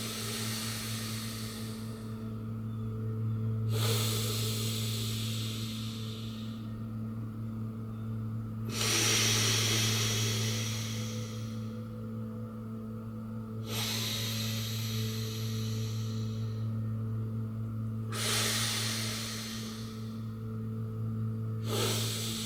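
Slow, steady breaths in a guided breathing exercise, each airy hiss of an inhale or exhale lasting a few seconds in a regular cycle, close and soft over a constant low electrical hum.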